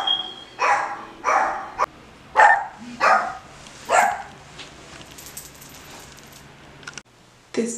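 A dog barks six times in a steady series of loud, close barks, followed by a quieter stretch and one more bark at the end.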